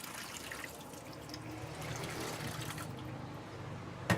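Tap water running steadily to rinse an espresso machine's drain pan, a continuous soft splashing trickle with a louder clatter right at the end.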